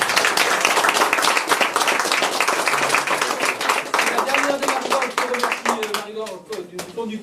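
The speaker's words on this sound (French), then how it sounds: "Marie-Laure, s'il te plaît, on peut l'applaudir." An audience at a knife festival celebration applauds a volunteer with loud, dense clapping that thins out toward the end as a voice begins speaking over it.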